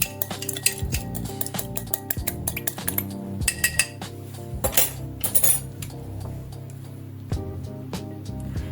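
Stirring egg yolk and a tablespoon of milk in a dish while making spinach and cheese pies: a spoon clinks and taps rapidly and irregularly against the bowl, close and bright, with brief pauses.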